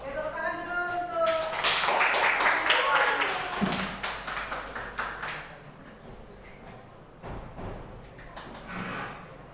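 A short burst of clapping from Indonesian classroom students for a classmate about to recite a poem, loud at first and then thinning to a few claps, with talk, shuffling and knocks around it.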